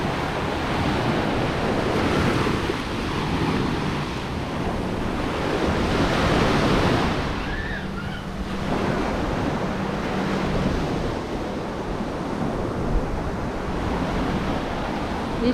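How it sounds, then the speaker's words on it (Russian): Ocean surf rolls onto a Maldives island beach, a loud continuous wash of breaking waves with swells rising and falling, mixed with gusty wind buffeting the microphone. "послушать шум волн"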